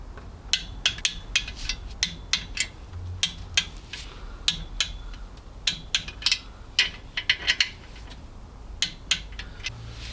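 Gearbox bolts on a car being tightened to 30 foot-pounds with a hand ratchet, a series of sharp metallic clicks and clanks in uneven bursts, close up in a workshop with no talking.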